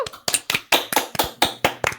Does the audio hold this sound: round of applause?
yes